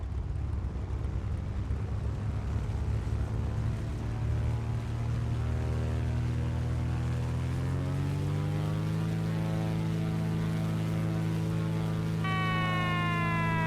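A tow plane's propeller engine powers up for takeoff in Flight Simulator X, towing a glider: a steady, loud droning hum that rises in pitch and intensity as it gains speed, with a higher tone entering near the end.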